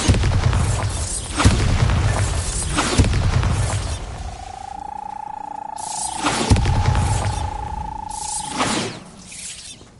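Blasting-spell explosions in Hogwarts Legacy: several loud broadband booms at a steady pace, with a sustained ringing magical tone in the middle between blasts.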